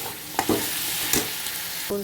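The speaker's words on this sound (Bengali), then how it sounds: "আলুটা দিয়ে দেবে, আলুটা একটু ভাজা ভাজা হবে" Potatoes frying in a pan with onion, ginger, garlic and green chilli, a steady close sizzle with a few short knocks and scrapes of stirring, no speech.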